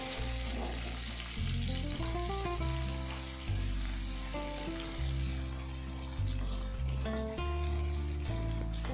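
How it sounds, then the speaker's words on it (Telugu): Ivy gourd (tindora) semi-fries in a pan, giving a steady bubbling sizzle of oil heard under continuous background music with shifting tones. "అంటే మరీ ఎక్కువ ఫ్రై అవ్వద్దు, సెమీ ఫ్రై అయితే చాలు."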